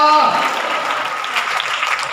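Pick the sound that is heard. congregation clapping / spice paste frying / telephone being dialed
congregation clapping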